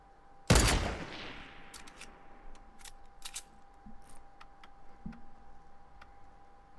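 A single loud, close sniper rifle shot rings out in a battle royale video game, its crack trailing off in a long echoing decay, followed by scattered faint clicks and ticks over a steady low hum.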